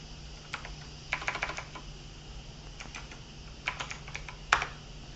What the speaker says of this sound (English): helps if I type the right command